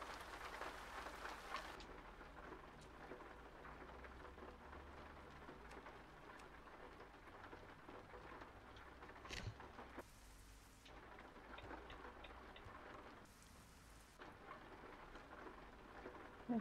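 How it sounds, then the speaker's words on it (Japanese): Steady rain falls in the trucking game Euro Truck Simulator 2, a soft continuous hiss and patter with faint rumbles, quiet and unbroken throughout with no talking. "雨降ってんな"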